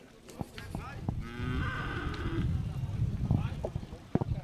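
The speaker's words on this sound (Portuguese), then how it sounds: "Ó o gado chegando, pessoal, no curral do gado de Senador Rui Palmeira." Cattle arriving at a livestock market corral in Senador Rui Palmeira, Alagoas, give a drawn-out moo near the middle, amid hoof knocks, crowd murmur and people talking.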